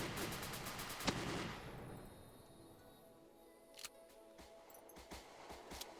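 Machine gun fire in the video game Rogue Planet 2, a dense rapid burst that fades out after about two seconds, then sparse isolated shots and clicks at moderate distance, with no talk.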